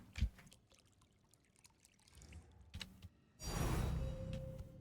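Water pours in a video game, a faint trickle at first that swells into a fuller, steady pouring stream in the last second and a half, with a few soft clicks and thuds before it.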